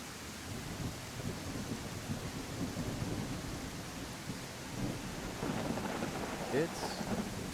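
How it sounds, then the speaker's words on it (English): Thunderstorm in a dramatic crucifixion scene: steady rain and a low, continuous rumble of thunder that swells toward the end, with a few sharper cracks near the close. "It's too early for a storm, isn't it?"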